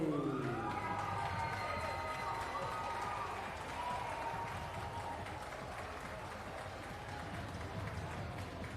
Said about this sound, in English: please a big round of applause for Max Manley